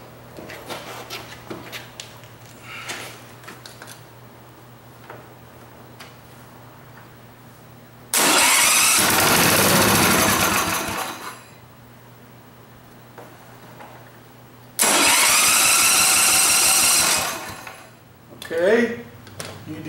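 A Montgomery Ward GX7 engine, sitting unused for 37 years, bursts into two loud, rough running stretches of a few seconds each, separated by quieter tinkering sounds.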